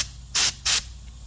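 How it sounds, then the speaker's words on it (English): A cleaned 7.3 diesel fuel injector nozzle fires two sharp, close hissing sprays in quick succession, each a loud burst of about a sixth of a second over a low background hum. "That's how you know your nozzle is clean. Did you see the spray?"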